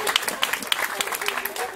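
Audience clapping for young artists at an exhibition opening, a brisk patter of many hands at moderate volume, short and steady with a voice faintly present beneath.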